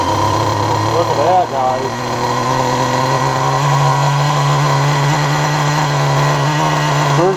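A Traxxas Jato RC nitro engine runs with a high, buzzing whine, steady and loud throughout, while a person talks over it.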